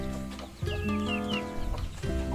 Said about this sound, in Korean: 이거는 백봉이에요 백봉